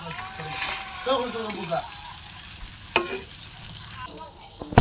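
Maggi noodles fry with potato in a pan, giving a steady sizzle broken by scraping stirs and a few sharp clanks of the spatula, while a voice speaks briefly in the background.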